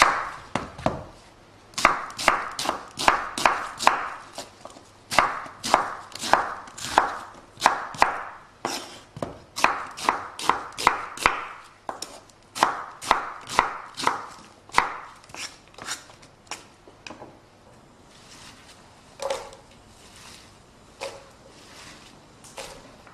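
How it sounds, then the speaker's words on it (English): Three large Spanish onions being chopped with a knife on a board for a chicken korma curry: a long run of sharp, rhythmic, close knife strikes in quick bursts, slowing and thinning toward the end, with no talk. "3 large Spanish onions which we're going to chop and add to our pot"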